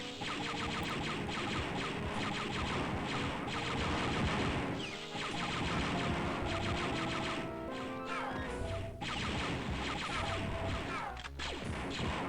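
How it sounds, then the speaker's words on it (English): Dense, continuous blaster fire and crashing impacts from the 1995 video game Star Wars Dark Forces rattle loudly over game music, with no talking. "Suppose all that blaster fire."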